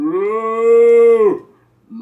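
A person imitates a cow, giving one long, loud, drawn-out moo that swells and then falls away, followed by a short pause and the start of another.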